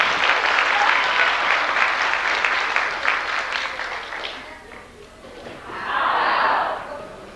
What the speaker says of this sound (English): this one is applause.